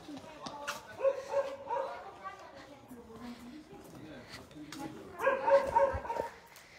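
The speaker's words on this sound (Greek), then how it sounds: "έχει και σκυλιά εδώ" Dogs in the village of Kaloxylos on Naxos, Greece, yip and bark in short bursts, with a loud cluster near the start and another toward the end, while people talk nearby.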